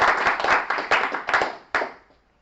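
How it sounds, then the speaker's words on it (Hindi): Seminar audience clapping together in a short round of applause, with loud accented claps at uneven intervals before it quickly dies away. "इन्हीं की वजह से हमें भाई तालियां जोर से बजनी चाहिए"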